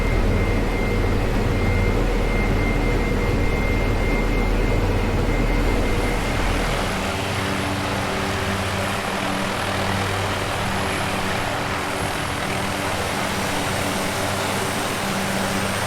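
Propeller aircraft in a flight simulator game approaching to land at an airport, its engine drone steady and fairly loud throughout, with the low rumble easing partway through and no talk.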